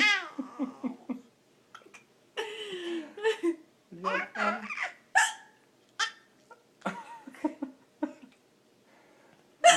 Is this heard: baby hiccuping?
yes